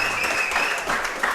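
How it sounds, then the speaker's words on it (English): A brief burst of audience applause at a high school football coaches' show honoring a young player, close and lively with many hands clapping together and a faint voice underneath. "Let's give him a round of applause"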